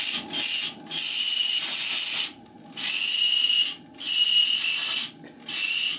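A steam whistle on a model steam trawler, the Saint-Elme, floating in a bathtub, gives five shrill, sustained blasts of uneven length with brief gaps between them, loud and close, with a faint hiss beneath.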